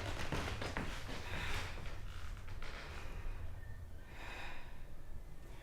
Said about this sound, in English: Breathe here, in and out through the nose